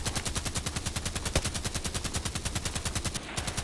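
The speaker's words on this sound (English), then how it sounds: "What's shooting there?" Rapid, steady automatic gunfire in a first-person shooter game, an SV98 sniper match on the Site Map level, a loud continuous rattle of evenly spaced shots filling the whole stretch with no talk.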